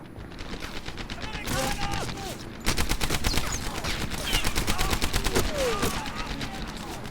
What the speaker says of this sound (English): there's an LMG shooting at me